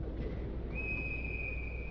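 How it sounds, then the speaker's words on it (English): A referee's whistle stopping play in a youth ice hockey game, one long shrill blast heard at moderate distance over steady rink ambience. "Whistle and a stoppage of play"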